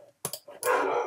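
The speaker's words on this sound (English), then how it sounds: "that one that you can hear there is a horrible, horrible sounding dog" A dog barks sharply a few times, then gives a longer rough, growling bark, fairly close and loud with no talk over it.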